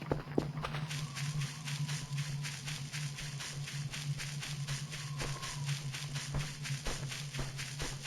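Footsteps in the horror video game Voices of the Void, a steady run of evenly spaced thudding steps that continues without pause over a low constant hum, with no talking.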